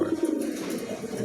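A pigeon coos in a low, throaty, continuous warble, fairly close and alone without talk.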